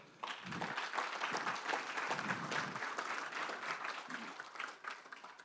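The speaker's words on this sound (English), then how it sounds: "Give me a round of applause." A round of applause from a convention audience, dense, even clapping from many hands that starts sharply and holds steady for several seconds before thinning slightly at the end.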